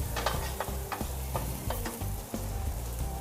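Pieces of food browning in hot frying oil in a Samoan home kitchen, with a steady close sizzle broken by regular clicks and scrapes from stirring.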